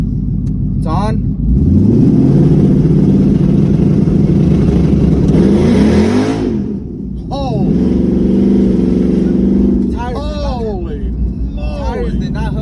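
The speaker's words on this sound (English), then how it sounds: "push down the brake, hold the trans brake, rip it up a little bit, pick up the boost or whatever, and then rip." A Ford Mustang S550 GT held on a trans brake revs hard with a loud, close rumble, drops off briefly, then roars again and launches with a surging engine note as people talk over it.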